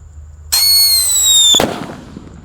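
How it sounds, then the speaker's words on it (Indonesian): A red Whistling Thunder firework goes off with a loud, shrill whistle lasting about a second, ending in a sharp bang followed by a brief fading crackle, close and alone without voices. "Selanjutnya ada Whistling Thunder yang warna merah."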